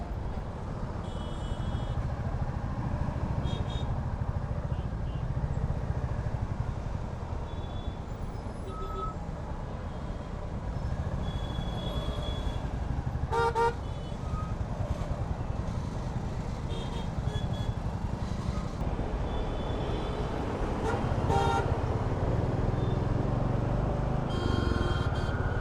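Busy road traffic passing around a Bullet motorcycle on a ride toward Huskur Jatre: a continuous low rumble of trucks, buses and cars, with short beeps and horn-like tones cutting in at intervals, heard from within the flow.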